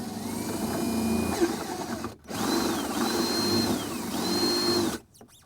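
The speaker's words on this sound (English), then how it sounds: "we're gonna take our drill with our 7/16 drill bit" A power drill with a 7/16 bit grinds steadily through a Jeep Wrangler's metal fender, its pitch rising and falling, with a brief pause midway before it resumes.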